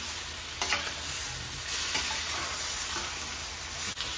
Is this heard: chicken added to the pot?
yes